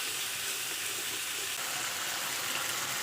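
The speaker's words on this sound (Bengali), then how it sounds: "মশলাটা ভালো করে কষিয়ে নেব।" Potatoes sizzle steadily in a pan with ginger, cumin, chili powder and coriander powder masala being fried, a constant close crackling hiss with no talk.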